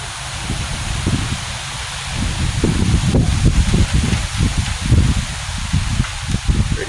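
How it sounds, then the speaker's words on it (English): Gusty wind roars through leaves during a summer thunderstorm at sunset, a steady broadband rushing with low rumbling buffets and no voices, loud and close throughout. "Pretty windy out here."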